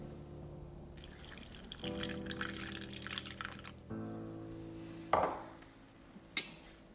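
Milk poured into a Thermomix bowl for Halloween cupcake batter, a thin trickling, dripping liquid stream with a few clinks against the bowl, close and moderately quiet.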